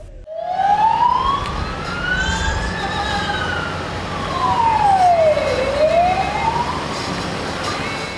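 A police car siren leading a funeral convoy for fallen soldiers wails, rising and falling in long sweeps over low traffic rumble, loud and close.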